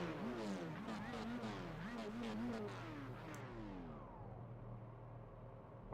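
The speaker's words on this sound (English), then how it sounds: "Lots of engine revving going on." Several racing car engines rev on the grid in a sim racing game at the Nürburgring Sprintstrecke, overlapping close, loud rising and falling whines that quiet down toward the end, with a voice speaking underneath.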